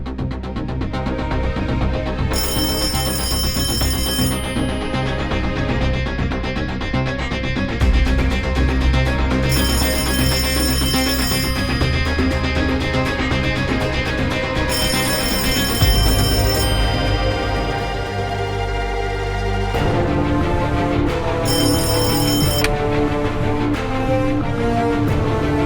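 A telephone rings with a repeated electronic bell tone in regular bursts about every six seconds, loud and close, layered over continuous dramatic background music.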